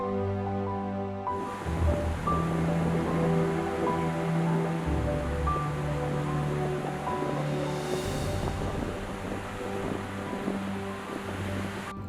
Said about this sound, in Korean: 오늘은 바닷바람이 거세다가 보니까 막 저 파도 소리 우리를 막 반겨주고 있잖아요